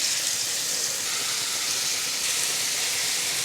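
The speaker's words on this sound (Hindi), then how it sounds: "ऑयल अच्छी तरह से गर्म हो जाने के बाद हम इसमें एक एक करके चिकन टिक्का के पीसेस डालेंगे।" Chicken tikka pieces frying in hot oil in a pan over a high flame, a steady, loud bright sizzle and hiss that holds evenly throughout, with no talking.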